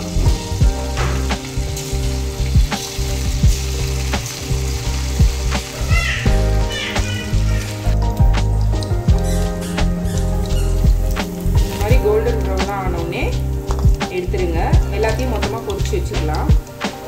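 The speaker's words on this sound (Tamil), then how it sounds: "எண்ணெய் நல்லா கொதிச்சிருச்சு. இப்போ ஒன்றுனா இதை போட்டு பொரிச்சு எடுத்துக்கலாம்." Chicken pieces for honey chicken deep frying in hot oil in a pan, giving a steady close sizzle and crackle with brief bubbling bursts throughout, under a voice talking.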